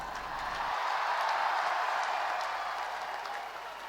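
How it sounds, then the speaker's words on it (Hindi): Stadium audience applause at a ceremony in Lucknow honouring Tokyo Olympic medal winners, a sustained wash of many hands clapping that swells early and holds steady, heard at moderate distance. "जिनके मंच पर आते ही तालियों की गड़गड़ाहट से स्टेडियम गूंज पड़ा।"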